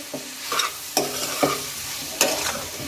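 A spoon stirs potato and cauliflower curry in a pan, giving several scraping strokes at an uneven rhythm over a faint sizzle, close and clear with no talking.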